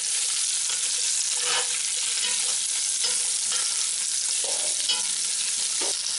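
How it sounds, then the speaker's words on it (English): Steady crackling sizzle of hog balls frying in a hot pan, with occasional stirring clinks and scrapes, close and continuous with no talking. "You should hear a slight sizzle as this hits."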